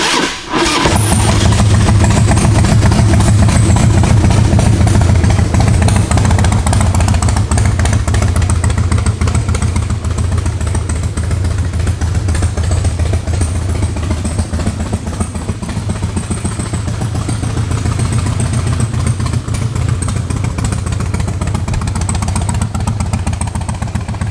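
A 2003 Harley-Davidson Softail Standard motorcycle engine cranks and catches at the start, then settles into a loud, steady, close-up idle with a deep, lumpy rumble that continues for over twenty seconds.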